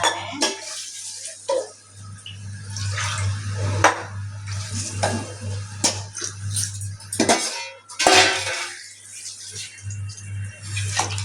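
A spoon stirs veg biryani in a cooking pot, making intermittent scrapes and metallic clanks against the pot at close range over a low, steady background hum.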